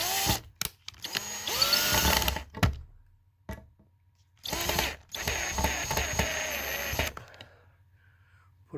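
Power screwdriver driving a screw into a post at a cottage, in several whirring bursts of varying length separated by short pauses, close by, with some quieter clicking between runs.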